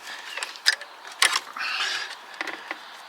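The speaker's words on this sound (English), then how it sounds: "screw your two torque bolts in" Torque bolts being screwed in by hand on a Mercedes E250 220 CDI mass airflow sensor, heard as close, light metallic clicks, ratcheting scrapes and creaks in uneven bursts, with no talking.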